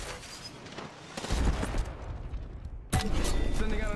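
Bursts of gunfire in the PUBG battle royale game, a dense rattle of rapid shots returning after a brief pause, loud and close with no talk over it.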